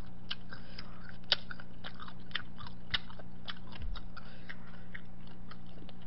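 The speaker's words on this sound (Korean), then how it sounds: "여러분들 쩝쩝대도 조금 이해해주세요." Steady, wet chewing and crunching of sundae, pork and Korean jeon close to the mic, with repeated bites and sharp crackly snaps, no talking.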